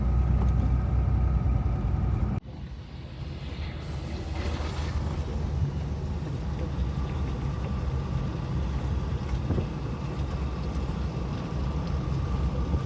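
Vehicles drive along a forest road at night, heard from inside a moving vehicle as a constant low road and engine roar. An abrupt cut near the start is followed by steady droning.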